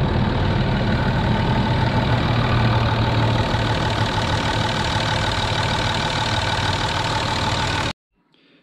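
A 2.7 HDi PSA diesel engine idles just after a timing belt replacement, running loud and steady with an even mechanical clatter for about eight seconds before cutting out abruptly.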